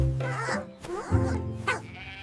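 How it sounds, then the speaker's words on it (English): A sheep bleats in a farm animal sound game for kids, two or three wavering, voice-like calls heard up close and fairly loud, with no talk over them. "It's a sheep."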